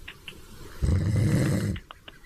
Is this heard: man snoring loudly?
yes